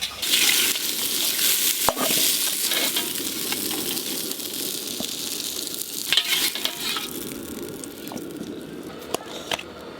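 Potato and cauliflower pieces fry in hot oil, a steady close sizzle and crackle running through the whole stretch, with occasional sharp scrapes and clicks from stirring.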